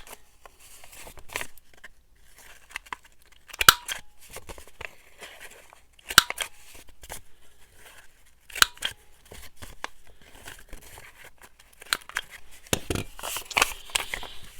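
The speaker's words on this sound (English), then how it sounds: "It's always interesting trying to cut thin paper with those punches." Paper punches cutting thin dyed paper, giving sparse sharp snips and crunches scattered over a quiet background, with a few louder clicks spaced irregularly and nobody talking.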